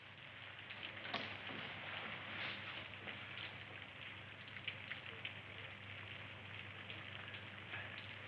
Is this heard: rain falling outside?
yes